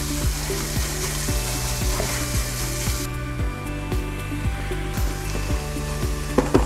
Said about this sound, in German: lassen das erstmal jetzt ein bisschen mit anschwitzen hier in dem wunderbaren Fett von der Cabanossi und von dem Schinkenspeck